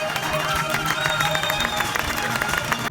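Sustained clapping from a crowd at a university graduation in Karabük as Turkish Language students enter the hall, an even wash of many hands with background chatter.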